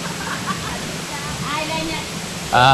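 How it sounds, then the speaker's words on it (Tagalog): Water pours steadily from the outlet of a large swimming pool at a farm resort, a constant broadband rush with a louder surge near the end, while faint voices talk in the background. "Ayun ang tagusan ng tubig."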